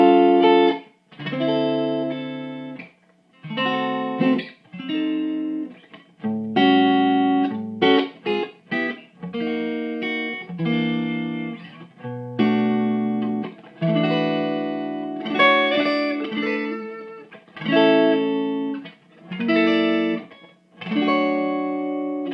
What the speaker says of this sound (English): straight-up clean sound that comes out of this amp.